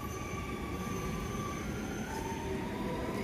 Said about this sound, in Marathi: तरी मेट्रो आता पुढे जाते.